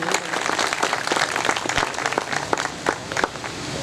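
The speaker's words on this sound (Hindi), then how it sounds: "भरपूर तरीके से तालियां होनी चाहिए" Applause from a seated audience at the inauguration of a workshop, uneven claps crackling throughout at moderate volume, a few sharp individual claps standing out near the end.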